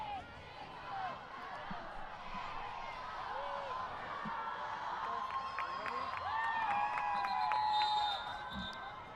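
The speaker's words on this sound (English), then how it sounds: "Crowd counting down and giving the jump on the umpires" A stadium crowd at a women's hockey Champions Trophy match between Australia and England in Argentina makes a broad, steady roar of voices that swells toward the end, with a few faint whistle-like tones.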